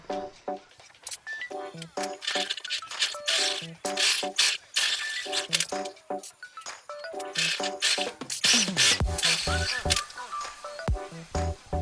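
A sewing machine stitches the side seams of a lined, gathered fabric handbag, running in quick rattling bursts of mechanical clicks with brief pauses between them and no talking.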